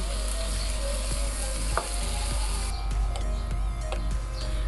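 Marinated chicken sizzling and frying steadily in a hot pan for a jalfrezi, with occasional clinks of a utensil and a faint chirp in the background, and no speech.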